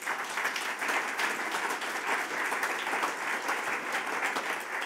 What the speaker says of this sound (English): So again, please, let's give them a big applause.